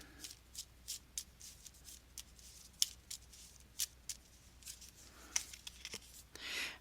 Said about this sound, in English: I am going to pull one card for you